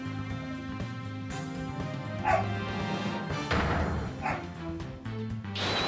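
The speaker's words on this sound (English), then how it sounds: "I'm sorry if you hear dogs barking in the background." Dogs barking in the background, a few muffled repeated barks and yips heard faintly under louder video game music.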